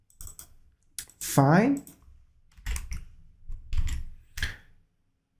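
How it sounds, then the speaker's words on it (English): Short bursts of clicky typing on a computer keyboard during a programming session, with a few scattered keystroke clusters between moments of someone speaking. "Let's type it here."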